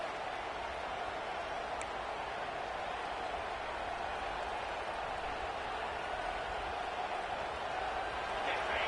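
A loud college football stadium crowd roars steadily at a game against Penn State as the defense takes the field, a dense constant wall of noise with a play-by-play announcer talking over it.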